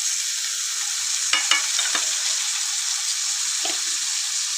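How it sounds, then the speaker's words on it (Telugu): Beans fry in oil in a pan with a steady, even sizzle throughout, broken by a few soft clinks of a utensil, heard close and alone. "ఇప్పుడు ఈ బీనీస్ అనేది మంచిగా మనం ఇట్లా ఆయిల్లో ఫ్రై చేయాలి ఒక 5-10 మినిట్స్"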